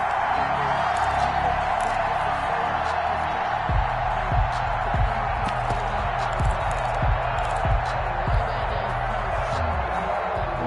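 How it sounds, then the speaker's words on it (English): A stadium crowd in a football video game roars in a steady, dense wash of cheering that rises as a big third down approaches, with a run of rhythmic low thumps partway through. "The crowd getting into it as we come up on a big 3rd down"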